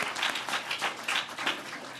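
An audience at a social justice talk in Baltimore gives a brief, fairly faint round of scattered clapping, heard from a distance.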